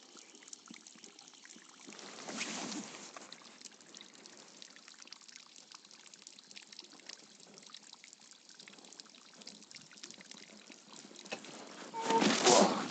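Water pouring into a 25-litre motorized sprayer tank, a steady, moderate trickling stream lasting throughout, with a louder splashing surge near the end.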